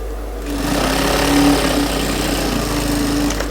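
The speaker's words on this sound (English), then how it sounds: "I'll run a stitch on it." A sewing machine runs a steady stitch along a pocket bag on a women's suit, a close, continuous mechanical whir lasting several seconds without talk.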